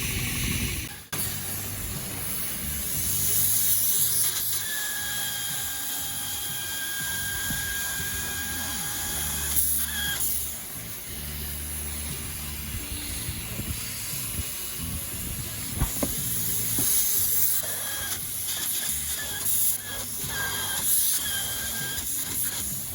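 Spray foam insulation is sprayed onto log cabin rafters: a steady, loud hiss runs throughout with mechanical whine and rumble underneath, pausing briefly now and then before resuming.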